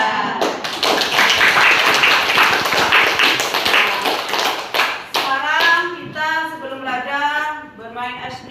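Children clapping hands together during a classroom ice-breaking counting game, a dense burst of rapid claps for about five seconds, then a voice leading the chant as clapping continues under it.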